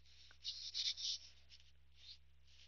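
A pen scratches across paper as a math question is written out, several short soft strokes in quick bursts with pauses, close and quiet over a low electrical hum.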